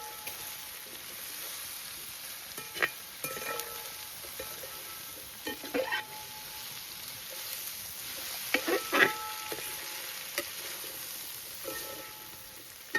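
Onions and shallots sizzle steadily in a pan for Idukki-style botti curry, with a continuous soft frying hiss broken by occasional clinks and scrapes of stirring, and no talk.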